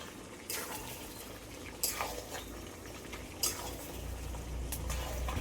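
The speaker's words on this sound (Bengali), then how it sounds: "এবার ভেজে রাখা আলুটাও দিয়ে দেবো এবার একসাথে ভালো করে কষিয়ে দিই" A spoon scrapes and stirs meat with fried potatoes in a pan, with a faint steady sizzle underneath and a few sharper clinks against the metal; no talking.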